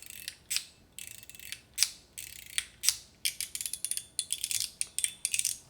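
Mokutai fidget toy, similar to a Mott Groove, giving crisp close ratcheting clicks in short bursts, then faster rapid clicking near the end, alone and fairly quiet.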